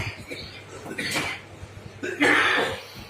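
A couple of harsh coughs, one near the start of the second and a stronger burst about two seconds in, over faint background murmur.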